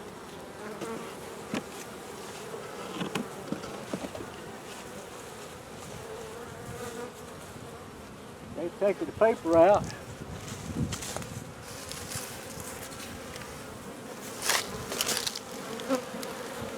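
Honeybees at a hive make a faint, steady buzzing drone close by, with occasional louder bursts as bees fly near, while a person speaks briefly.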